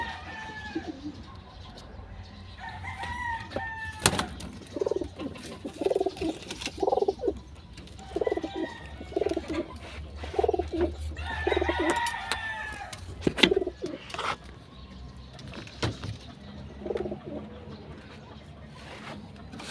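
Pigeons cooing close by in a string of soft, repeated throaty calls spread across the whole stretch, with sharp clicks and knocks breaking in between.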